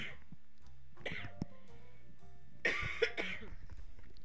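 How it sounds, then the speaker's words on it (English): A person coughs a few times close by, short throaty bursts after a quiet stretch, with a brief sound of the voice in between. "I think I'm getting sick again, guys. I'm coughing."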